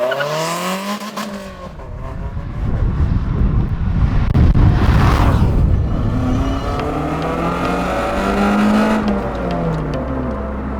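A light, low-powered car drives a twisting road, its engine revving up and easing off through the bends with a brief tire squeal, accompanied by steady wind noise buffeting the microphone.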